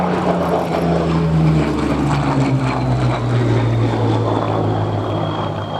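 A WWII propeller fighter, a Spitfire or Hurricane in 41 Squadron colours at an airshow, flies past with a loud, steady piston-engine drone whose pitch slowly falls as it passes, heard alone.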